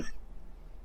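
A single short, sharp cough or throat clear from a man with a bad cough, close and abrupt, then quiet room tone.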